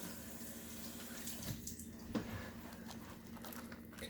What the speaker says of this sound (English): And I just rinse my hands real quick too.